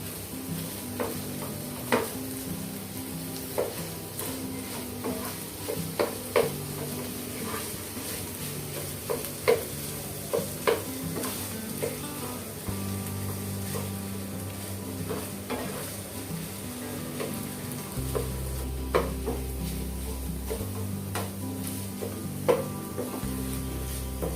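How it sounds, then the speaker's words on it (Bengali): Continuous soft sizzling of chicken pieces frying in a pan with occasional clinks and stirring scrapes, steady throughout. "মুরগিগুলো ভাজা হয়ে গেছে।"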